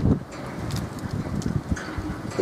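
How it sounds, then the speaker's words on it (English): Gusty wind buffets the microphone at a rural level crossing in Devon, a rough continuous rumble with louder bursts and faint rustling. "A bit windy."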